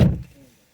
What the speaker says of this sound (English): I do after I close the door, not before.